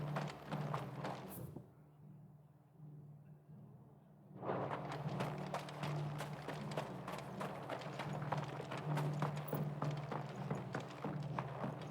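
Horse hooves clip-clop in Final Fantasy XVI: a steady, fairly quiet run of hoofbeats over a low background hum, briefly dropping out before resuming at a brisk, even pace.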